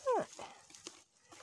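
A single short dog yelp or whine up close, followed by quieter rustling and faint background noise.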